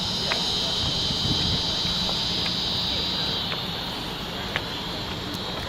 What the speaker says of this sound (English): Oh, you can hear the cicadas right now.